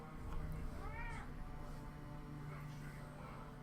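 A cat meows once, softly and with a rising-falling tone, in the fantasy role-playing video game Pillars of Eternity, set over a quiet, steady ambient hum.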